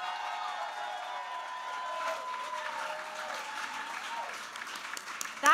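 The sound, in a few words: audience applause for festival volunteers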